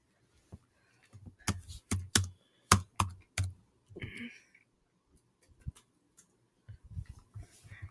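Bursts of close, crisp clicks from typing on a computer keyboard, with quick clustered keystrokes, pauses between them and faint sounds in the quiet gaps.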